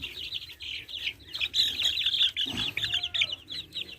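Silkie chickens cluck and chirp in a steady, busy chorus close by, with overlapping high calls running throughout and a short low rustle near the middle.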